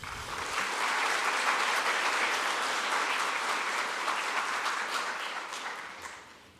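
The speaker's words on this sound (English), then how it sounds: "let's give her a round of applause" An audience at a speech competition breaks into applause welcoming the MC, a swelling wash of clapping that holds strong for several seconds and then tapers off.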